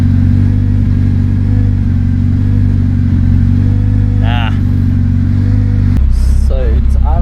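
A car engine idles with a steady low rumble that sags and stumbles partway through, nearly dying before catching again; a voice speaks briefly over it.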